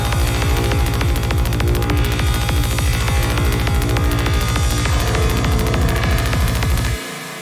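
An FM synth ambience patch run through a band pass filter and long reverb throbs in a steady rhythmic pulse of low, buzzy tones, loud and continuous before cutting to a quieter tail near the end.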